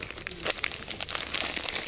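A plastic fishing bait packet is torn open by hand beside the Dnipro river, giving close, fairly quiet, rapid crinkling and rustling bursts over a couple of seconds with no talk.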